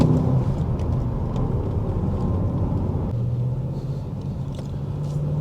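A 2023 Audi S8 facelift on the road, a steady loud engine rumble with a shift in tone midway, heard from inside the cabin.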